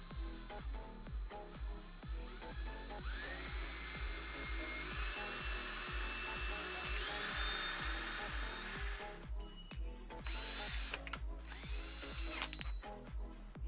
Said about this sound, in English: start by drilling a small hole